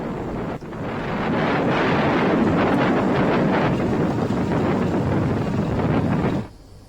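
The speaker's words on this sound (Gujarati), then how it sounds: "બરડા પંથકમાં ભારે પવન ફૂંકાવાની સાથે વરસાદ ખાબક્યો" Strong wind blows during an unseasonal rainstorm with hail in the Barda area of Porbandar, Gujarat, roaring steadily and loudly against the microphone for several seconds before stopping abruptly near the end.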